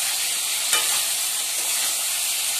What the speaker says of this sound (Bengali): ভেজে রাখা আলুগুলো দিয়ে দিলাম, এবার ভালো করে কষিয়ে নেব